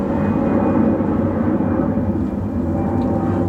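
An airplane passes overhead as a loud, steady low roar that fills the whole clip without fading, with no voices over it.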